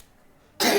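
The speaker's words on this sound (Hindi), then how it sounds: "थोड़ी सी खांसी है" A single short, harsh cough bursts out near the mic after a moment of near silence.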